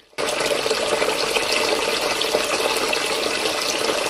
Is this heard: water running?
yes